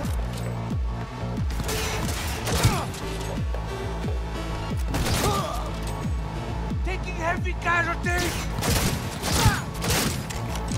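Rapid bursts of gunfire from a hand cannon and impacts crackle continuously in Cyberpunk over a layered soundtrack, with a voice talking over the action.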